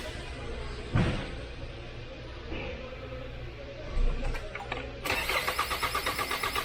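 A 2021 Hyundai Santa Fe with a crank-no-start fault turns over without firing: a short thump, then a rapid rhythmic cranking whir that starts near the end, close and fairly loud, with no engine catch.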